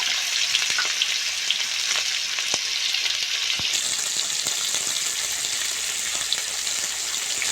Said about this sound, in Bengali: একই তেলে আমি আলুগুলো ভাজতে দেব।